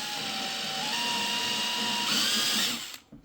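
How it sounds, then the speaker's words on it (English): A power drill spins a step drill bit through a hole in a repeater enclosure, a steady whining grind whose pitch shifts as the bit steps up, then cuts off abruptly. "So I'm going to drill it in from the inside."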